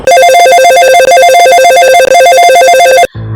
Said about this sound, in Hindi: रात के ठीक 3:12 बजे फोन की घंटी बजी।